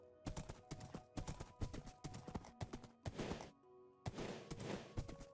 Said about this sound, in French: Ah, il fait beaucoup de bruit, mon cheval.